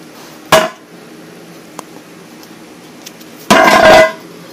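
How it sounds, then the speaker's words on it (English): Hammer blows on the bell housing of a Porsche 928 during torque tube disassembly, two sharp metallic strikes about three seconds apart, the second longer and ringing, with quiet workshop background between. "Hammer."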